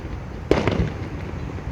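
Fourth of July fireworks burst outside a casino parking lot, a single sharp bang followed by a crackling tail and a couple of softer echoing pops, moderately distant over steady background rumble.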